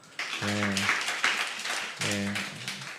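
Congregation clapping during a church sermon, a steady broadband patter across the whole stretch, with a voice rising over it twice.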